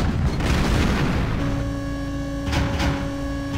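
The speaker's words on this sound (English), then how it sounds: "Only a couple barrels blow up." Barrels blowing up in the video game Ghosthunter, a loud booming burst at the start followed by rumbling debris, a sustained tonal hum and a couple of smaller crackling hits.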